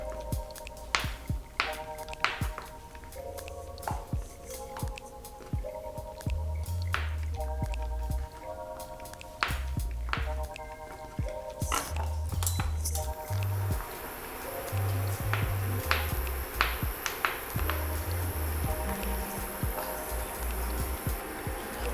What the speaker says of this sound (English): we're cutting in the small pieces to ease it to melt.